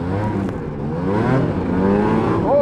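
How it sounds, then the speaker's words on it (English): A snowmobile engine that struggles to rev cleanly drones and climbs in pitch, a close, sustained whine that swells and rises sharply at the end. "Still not really revving real good."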